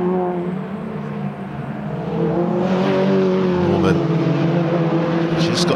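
Mini Challenge race cars roar toward the Dean Hairpin at Brands Hatch, engines droning loudly and shifting pitch as they brake and pass, with a commentator talking over them.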